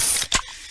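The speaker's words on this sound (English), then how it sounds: "that's the sound of a freshly opened fizz-filled Pepsi." A quick hiss and pop of a Pepsi can or bottle being opened, followed by a faint fizzing tail.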